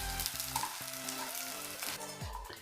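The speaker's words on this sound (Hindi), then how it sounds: "ये हमारा गोंद भी फ्राई हो गया है।" Edible gum (gond) frying in ghee in a kadhai over a low flame, a dense steady sizzle with bubbling and a faint underlying hum, close and continuous.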